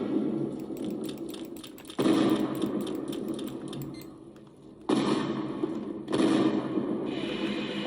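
Stinger Barrage missiles hammer Godzilla in the video game Teardown, a loud crackling run of rapid explosive bursts that surges in several heavy waves over a constant roar.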